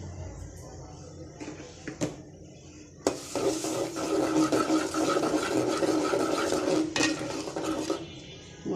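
Prawns and spices (chili powder, turmeric, coriander and salt) being stirred and fried in a pan: sparse clinks at first, then continuous scraping and sizzling as the spatula works steadily around the pan.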